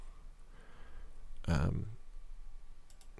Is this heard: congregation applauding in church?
no